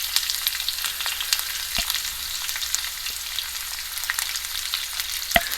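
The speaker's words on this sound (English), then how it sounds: "At this spur of the moment, I'm going to add the onions as well." Onions fry in a pan for South Indian coconut rice, making a bright, continuous crackling sizzle up close with occasional sharp pops and taps, with no voices.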